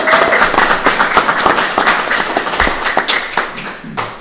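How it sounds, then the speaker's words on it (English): Loud audience applause at a boxing conference, a crowd clapping in a thick, continuous burst that stays strong for about four seconds. "Let's have a round of applause for Luke over here."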